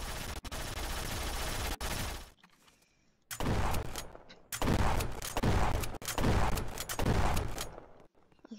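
Video game gunfire from a shotgun and an AK-47 sounds in loud, dense bursts of rapid shots, broken by short pauses, with no voices over it.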